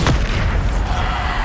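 A Bombarda spell erupts in Hogwarts Legacy, a loud, booming explosion with a sharp onset and a dense rumbling body that sustains for over a second.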